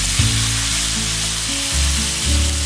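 A whole katla fish head fries in hot oil for a Bengali fish head curry. The sizzle is loud, close and continuous, with deeper bubbling surges and the clatter of the pan.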